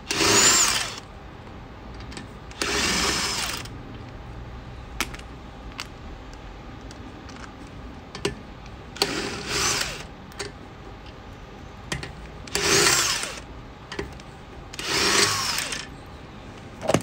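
Impact gun zipping off wheel nuts on a 2019 BMW 1 Series M Sport, five loud, close rattling bursts of about a second each, spaced by quieter gaps with small clinks of handling.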